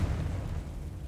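A Confringo fire spell blasts in Hogwarts Legacy, landing as a dull, low, rumbling burst that rolls on for about a second with no voices over it.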